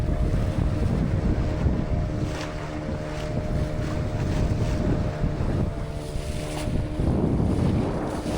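A boat speeds over sea waves off Goa near Butterfly Beach, its engine droning loudly and steadily while wind buffets the microphone and water splashes against the hull, with no voices.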